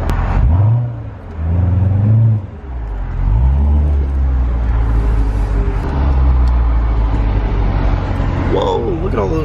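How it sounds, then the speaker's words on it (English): A Corvette Stingray idles and revs with its exhaust opened in track mode, deep rumbling swells rising and falling up close, with talk over parts of it. "Let's turn it to track where it opens up the exhaust."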